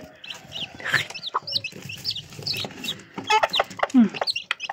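Hens in Kakheti cluck and chatter in short, uneven bursts, several birds calling close together at moderate volume, with a few louder squawks toward the end.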